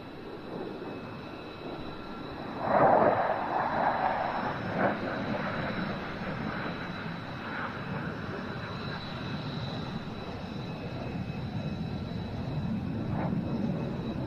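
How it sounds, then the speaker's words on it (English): Two Romanian Air Force F-16 fighter jets arriving overhead for a run and break at an air show, a moderate jet rumble with a sharper swell early on, then a steady distant roar that slowly builds. "Two Romanian F-16s now arriving in the overhead for a run and break."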